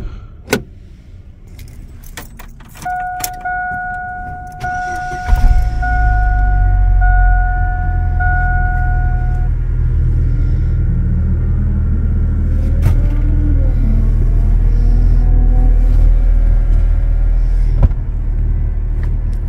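A truck with a suspected clutch or transmission fault: keys jangle and clack, then the engine cranks, catches and settles into a steady loud idle rumble, with a few knocks and clunks over it.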